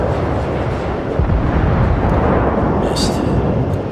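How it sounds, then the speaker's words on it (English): Naval guns firing in the World of Warships video game, a loud, heavy, sustained rumbling boom that holds for several seconds with no clear break, broad and thunderous. "see if I can put a couple of shots into this guy"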